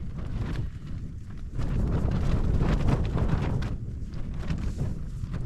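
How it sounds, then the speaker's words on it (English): Steady, strong night wind rushes and roars against the microphone at a campsite, swelling into heavier gusts after a couple of seconds. "it's a blowy night, isn't it?"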